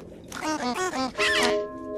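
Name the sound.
duck quack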